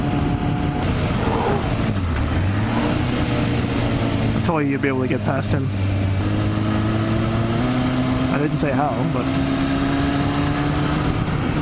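A freshly rebuilt motorcycle engine hums and shifts pitch while being ridden around Moncton, its tone rising and falling through gear changes as a rider talks over the engine noise.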